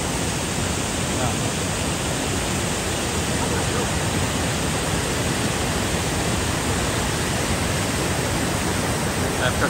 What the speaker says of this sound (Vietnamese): bên đây là nguyên dòng suối luôn